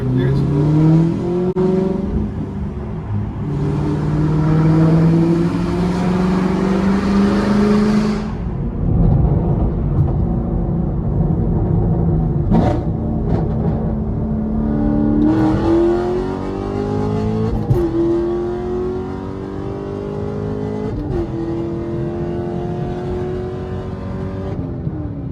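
A Chevrolet Camaro with full bolt-ons running E85 revs hard on a dyno during a tune, its engine climbing through long, loud pulls with steady rising pitch, easing off between runs.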